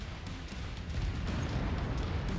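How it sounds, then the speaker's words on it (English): A big explosion in the MechWarrior 5: Mercenaries game, a sustained low rumbling roar with crackling debris that holds loud and dense, fairly close, with no talk over it. "Whoa, that was a big explosion."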